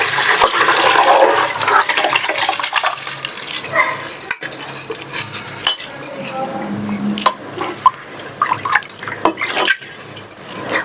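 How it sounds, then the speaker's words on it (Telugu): Water pours into a rice cooker holding soaked bagara rice ingredients, a steady splashing rush with a few clinks from utensils and pots, close and fairly loud throughout. "నేను అందుకే ఎగ్జాక్ట్గానే వాటర్ పోస్తాను అనమాట"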